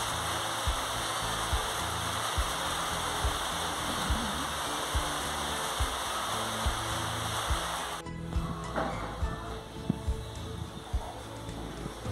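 Rain falls outdoors at a rural Guerrero home kitchen, a steady dense hiss that drops away abruptly partway through, leaving fainter patter with scattered small knocks.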